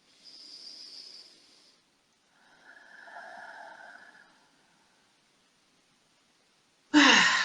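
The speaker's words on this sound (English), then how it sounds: "Now take a nice deep breath in." A long, deep breath drawn in during a live healing session: soft airy inhalations rise and fade in stretches, then a sudden loud, close rush of breath ends the passage, with no talking.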